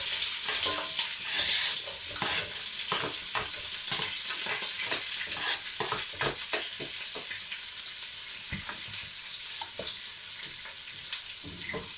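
Red onions sizzle and crackle steadily in a hot pan at the start of a beef mince curry, with a continuous hiss broken by occasional stirring scrapes.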